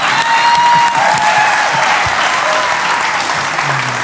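Audience applause at a live podcast recording, a steady dense wash of clapping hands filling the room for about four seconds, loud and continuous with a slight fade toward the end.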